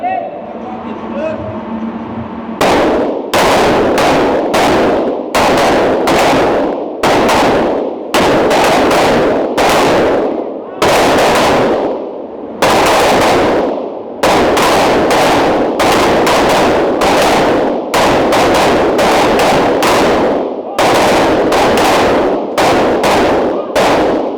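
Loud live rifle fire from Type 50 rifles on a military firing range, many sharp separate shots at irregular intervals over about twenty seconds, with some talk at the start.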